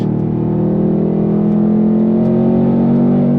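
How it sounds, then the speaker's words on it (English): A 2024 Ford Mustang Dark Horse with a V8 engine holds a steady, loud idle or low rumble, a deep even drone that continues unbroken, with no talk over it. "And the sound. Second to none. Especially on a modern V8 engine."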